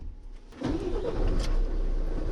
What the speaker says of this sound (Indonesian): Oke, kita start engine dulu.